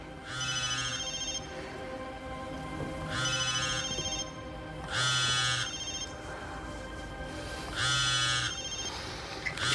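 Telephone ringing indoors, four evenly spaced electronic trilling rings with pauses between, moderately loud, background hum underneath and no voices.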